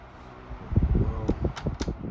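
A Sanyo Dynamic Wide 12-inch oscillating fan runs on medium speed, giving a soft, steady whooshing hum with faint rattly ticks close by, quiet and continuous.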